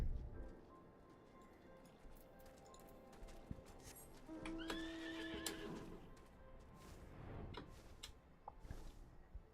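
In Final Fantasy XIV, a horse gives a clear whinny in the middle of a quiet passage, framed by soft, scattered hoof clip-clops before and after.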